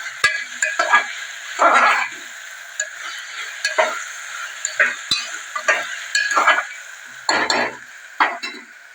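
Vegetable pulao with peas being stirred in a frying pan, irregular scraping and rustling strokes with a soft sizzle, close and fairly loud, with no talk.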